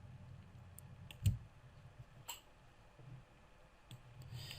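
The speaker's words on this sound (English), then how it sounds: "Now I'm going to click the top left corner and hold Alt and Shift" Computer mouse clicks while working in image editing software, a few sharp, isolated clicks spaced irregularly over a quiet room, one noticeably louder than the rest.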